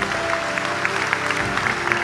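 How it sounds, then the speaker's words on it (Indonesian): Audience applause at an Indonesian religious lecture, a dense steady clapping from a crowd lasting a couple of seconds, loud and close with no talk over it. "Tepuk tangan untuk beliau"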